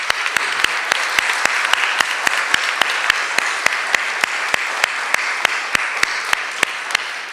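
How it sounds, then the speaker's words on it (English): An audience at a Juneteenth community reading of Frederick Douglass gives the readers a round of applause, sustained clapping from many hands with one sharp, evenly spaced clap cutting through close by. "I do want to take a moment at the start to really offer our readers a round of applause."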